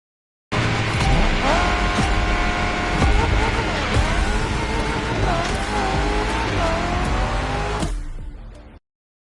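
A Shelby muscle car drives on city streets, its engine roaring up and down in pitch as tires squeal, loud and close, before the sound cuts off abruptly.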